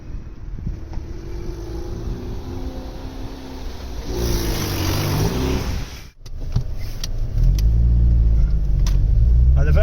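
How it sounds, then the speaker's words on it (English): A badly smashed, repaired Vauxhall Vectra CDX 2.2 16v being driven hums steadily from inside, with a brief dip and then a stronger, rising engine drone. Someone talks over parts of it. "The Vectra's driving surprisingly well"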